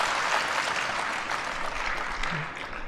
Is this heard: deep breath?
no